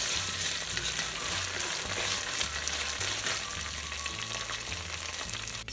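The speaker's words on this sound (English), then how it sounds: "let this saute till the raw smell disappears. It's been sauteing for about 3 minutes." Masala with ginger garlic paste sautéing in a pan for a Sri Lankan crab curry, a steady close hiss and sizzle with faint scraping under soft background music.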